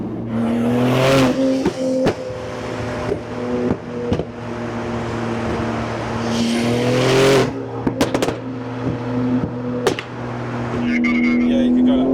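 A 1100 BHP Porsche 911 Turbo (992 generation) on fresh tires accelerates hard from inside the cabin, engine note climbing through several gear pulls with brief shift breaks, loud and close, with occasional voices over it.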